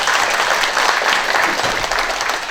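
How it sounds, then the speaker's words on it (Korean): An audience at a literary symposium applauds, a thick, even wash of many hands clapping close and loud for the whole stretch, with no talk over it. "박수 한번 주십시오."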